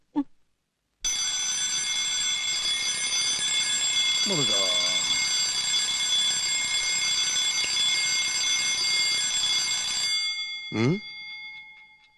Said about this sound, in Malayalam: ഇതാരാ മൂന്ന് മണിക്ക് അലാറം വെച്ചത്